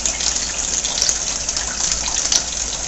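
Steady, full gush of water from a tap rinsing bulgur wheat while making a bulgur salad, a constant loud splashing rush that runs throughout with no talking.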